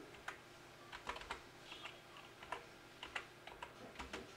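Computer keyboard being typed on at close range, a quiet series of irregular key clicks in short bursts and single taps against a faint room background, no voices.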